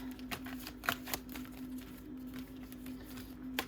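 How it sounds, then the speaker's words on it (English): A deck of tarot cards is shuffled close by in quick, light riffling flicks and taps, with a steady low hum underneath and no talking. "I'll just give a little shuffle here."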